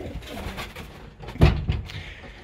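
Pigeons coo in a loft during pairing season, giving soft low repeated coos close by, with one louder burst midway, over faint background rustling.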